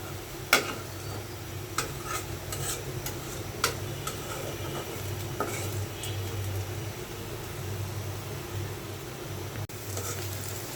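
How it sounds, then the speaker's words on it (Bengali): Onions frying in oil in a pan for a koi fish dopeyazi, a steady soft sizzle running throughout, broken by occasional light clicks and taps from stirring. "পেঁয়াজ তেলের উপর ভাজি করে নিচ্ছি।"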